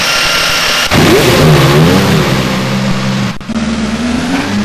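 A car engine in the racing video game Flag 2 Flag revs up and roars steadily with a rising, warbling pitch, loud and close, dipping briefly before settling into a sustained hum.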